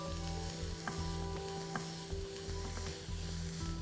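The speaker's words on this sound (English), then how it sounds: "So the onion and garlic is sauteed and ready." Onions and garlic sauté on a low flame with a soft, steady sizzle, broken by faint stirring scrapes and a low hum underneath.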